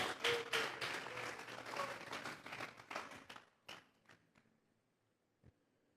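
A church congregation at a Spanish-language service claps as an offering of praise. A dense burst of applause fades into scattered, separate claps and a final lone clap, fairly faint.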